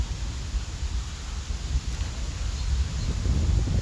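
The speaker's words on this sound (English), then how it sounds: "Why is it so fucking windy, dude?" Strong wind buffets and roars across the microphone, a constant rumbling hiss that builds slightly louder toward the end, with no voices.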